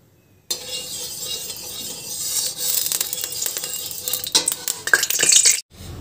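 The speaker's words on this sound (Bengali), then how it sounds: "আমি এর মধ্যে প্রথমে ফোড়নের জন্য দিয়ে দিচ্ছি কালো জিরে" Nigella seeds (kalo jire) hit hot oil in a kadai for tempering an ilish fish curry with potato and brinjal: a steady bright sizzle rises suddenly and holds, with scattered metallic clinks of a spoon near the end.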